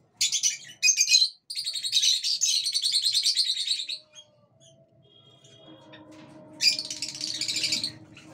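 Four baby birds in a nest chirp in rapid, high, insistent bursts, with loud close clusters for about four seconds, a quiet pause with faint low rustling, then another burst of shrill chirping.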